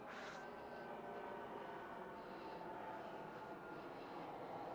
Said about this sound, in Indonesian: Wah ada pesawat, rumah gue deket bandara.